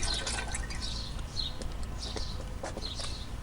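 Water poured from a tea kettle into a camping cook pot, a steady splashing, trickling pour with a few drips, heard close up and alone, about 1.5 cups going in.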